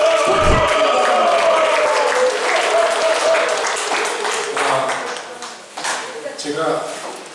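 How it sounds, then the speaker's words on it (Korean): Audience applause welcoming a professor to a lecture, a full burst of clapping at the start that thins and fades toward the end, with some talk and a few thumps mixed in. "큰 박수 부탁드리겠습니다."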